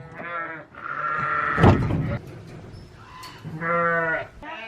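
Sheep bleat on a homestead in two harmonic bursts at the start and end, with a rustling, thumping handling noise in between.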